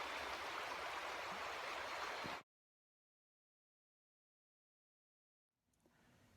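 A stream flows beneath a log hung with icicles, a steady rushing wash of water that stops abruptly, leaving silence before a faint trickle returns.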